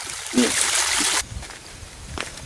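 A stream runs beside a rough rural road in Ebonyi, a broad rushing wash that is loud and close for a moment, then cuts to a fainter, distant trickle with light knocks.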